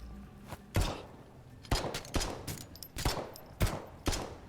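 Pistol shots in the video game Potentia ring out as sharp, separate cracks, about eight of them at uneven intervals, fairly close, with no voices.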